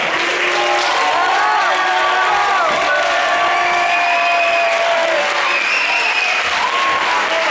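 Loud sustained applause from a crowd at a school theatre showcase in Llinars del Vallès, mixed with cheers, whoops and excited voices calling out over the clapping.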